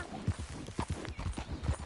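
Horse hooves clip-clop in a steady walking rhythm, close and clear, in the Western open-world game Red Dead Redemption 2.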